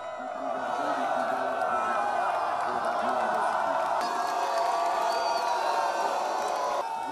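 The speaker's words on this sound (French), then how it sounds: "Au passage des différentes troupes, la foule est en délire" A large crowd cheering wildly as military troops parade past, a sustained wash of whoops, shouts and roaring voices, steady and fairly distant, with no pause throughout.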